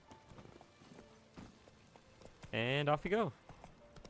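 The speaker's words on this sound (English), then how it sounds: "Alright, let's call our horse." Roach the horse in The Witcher 3 trots off with faint clip-clopping hooves, a short tonal call rising above them, while someone briefly speaks.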